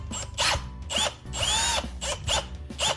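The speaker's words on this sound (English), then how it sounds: "And then we're gonna use the drill, switch it to screw it tight." A power drill drives screws into an electrical outlet box during a USB outlet install, whirring in several short bursts with brief pauses between them, close and fairly loud, no speech.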